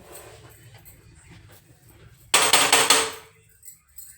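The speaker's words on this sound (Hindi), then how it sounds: "ठोक के देखते हैं सही चल जाए" A malfunctioning kitchen appliance is struck, giving about a second of loud rapid knocks and rattles after quiet background murmur, then a faint tap.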